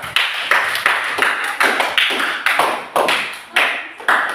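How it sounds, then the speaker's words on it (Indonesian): Group of people clapping hands in a classroom coaching session, a quick run of sharp, roughly rhythmic claps at close range, about a dozen bursts in a few seconds. "Oke, tepuk tangan."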